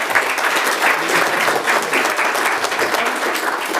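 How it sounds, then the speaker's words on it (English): A school board meeting audience applauds in a steady, dense burst of clapping that fills the room from start to finish at an even, fairly loud level. "We'll give you a round of applause"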